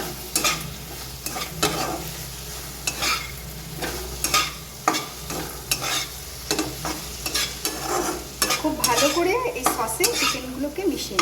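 Fried chicken being stirred into a spicy sauce in a pan for a Chinese-style chicken fry, with repeated spatula scrapes and clanks against the metal over a light sizzle, close and rhythmic.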